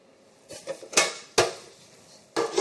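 Sugar poured onto butter in a mixing bowl for a banana cake, heard as a few sharp clinks and scraping knocks against the bowl, close and fairly quiet, with no talking.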